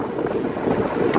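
Wind buffets a Land Cruiser's open window on a drive through Kgalagadi Transfrontier Park, a steady loud rushing roar with no break and no voices.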